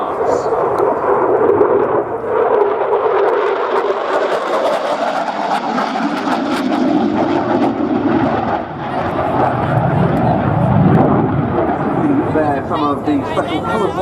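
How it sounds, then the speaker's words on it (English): A Belgian Air Component F-16A MLU jet flies a knife-edge display pass at an air show, a loud, continuous engine roar that rises and swells across the pass and is heard through a commentator's talk. "he's about to give us the knife edge pass"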